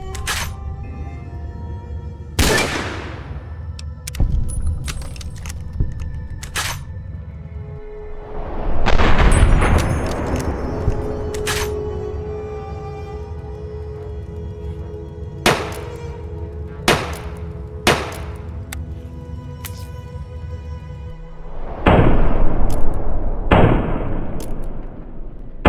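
Gunfire from a rifle, pistol and shotgun in the game Fallout: New Vegas, fought in close quarters against geckos in caves: several sharp, loud shots spaced irregularly, a couple of them heavier booms, over a low steady background.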